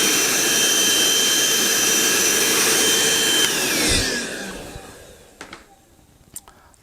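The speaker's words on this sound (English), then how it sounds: "I just quickly zip out the shop vac and vacuum up any crumbs from the pencil." Shop vac roaring steadily close by as it sucks up pencil crumbs, then winding down with a falling whine and stopping, followed by a few faint clicks and soft handling noises.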